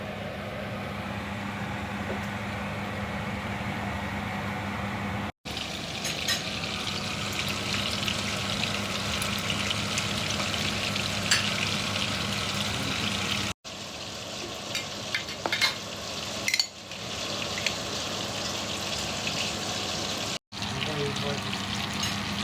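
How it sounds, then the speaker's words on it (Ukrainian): Zucchini, bell pepper, cabbage, carrot and onion frying and being stirred together in a pot, with a steady close sizzle and occasional scraping and clinks of the spoon, with a few short breaks. "І зараз я це все буду змішувати в одну каструлю."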